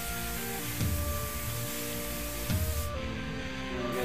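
An airbrush sprays Sparklescent Mango Auto Air paint with a steady, close hiss, interrupted by two brief trigger pulses, running continuously with no talk.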